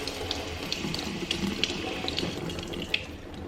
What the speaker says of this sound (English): when you flip it over, even more water comes through